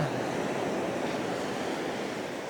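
Steady sea surf washes continuously at Shikanoshima beach in Japan, a dense, even roar of breaking waves with wind, with no voices.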